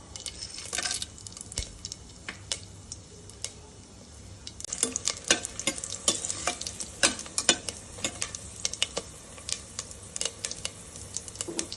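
Whole star anise, cloves and cardamom fry in oil for Andhra-style prawn biryani. A soft sizzle carries crackles and clicks that grow busier and louder partway through, with no talking.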